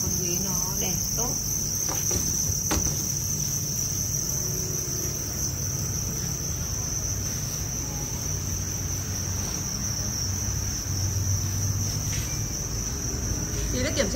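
Farmed crickets kept warm under heat lamps on a cricket farm near Hanoi chirp continuously in a dense, steady, fairly quiet chorus, with occasional faint background noises and no speech.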